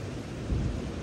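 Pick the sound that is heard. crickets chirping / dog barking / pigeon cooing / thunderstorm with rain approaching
thunderstorm with rain approaching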